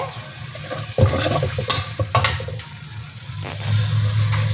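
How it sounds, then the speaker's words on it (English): Tamarind juice poured into a simmering Kerala fish curry, giving a close, steady liquid splash and bubbling over a low hum, with a brief clatter near the start. "Add the tamarind juice as well."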